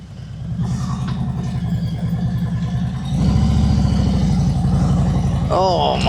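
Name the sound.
Harley-Davidson Road King Special motorcycle engine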